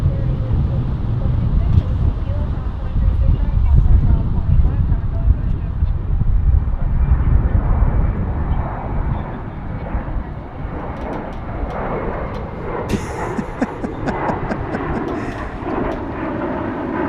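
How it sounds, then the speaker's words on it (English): An American Airlines Boeing 777 departing DFW Airport for London, a loud sustained jet roar that slowly fades and thins out, with people talking over it. "there's our American London departure on the 777."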